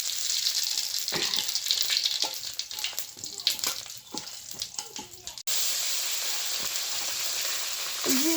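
Cumin seeds crackle and sizzle in hot oil for a vegetable curry tempering, a busy hiss with scattered pops and stirring scrapes, then a steadier, even sizzle after a brief cut, fairly close and loud.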